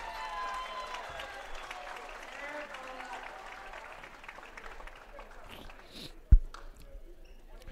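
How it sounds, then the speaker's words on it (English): A basketball crowd applauds in a gym after a PA announcer thanks visiting Air Force service members, a steady wash of clapping and cheering that fades out, followed by a single loud thump. "And the crowd gave him a big hand."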